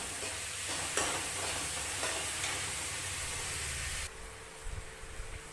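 Tadka tempering sizzles steadily in a pan in a Punjabi home kitchen while an eggplant sabzi is being made: a close, continuous frying hiss with faint stirring clinks, dropping to a quieter sizzle near the end.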